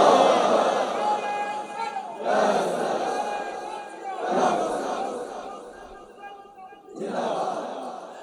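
A large crowd at an Islamic sermon gathering roars back a takbir to the preacher in several loud, surging collective shouts separated by short gaps, the voices echoing through an open-air sound system.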